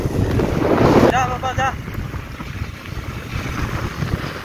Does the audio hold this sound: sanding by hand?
no